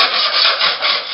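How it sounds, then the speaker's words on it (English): A tool scrapes white aluminum oxidation off an aluminum trailer floor, making a loud, close, continuous rasping scrape that swells and eases in a couple of strokes. "And if you come down here and start scraping away"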